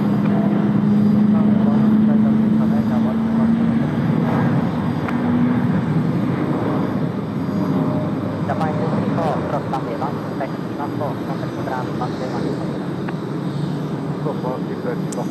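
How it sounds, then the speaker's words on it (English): A Boeing 787 jet roars loudly and steadily on takeoff at Tokyo Haneda airport, a broad, sustained engine rumble with a rising whine that slowly eases as the aircraft departs. "787 about to blast off behind as well"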